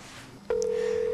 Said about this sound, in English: It's ringing. My mama never answers the phone.